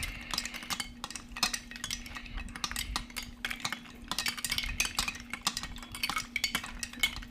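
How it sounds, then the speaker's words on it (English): An Old Fashioned cocktail with orange being stirred, giving a steady run of close, bright clinks and scrapes of a spoon against glass, with no talking. "it says to stir in the orange for another 10 seconds"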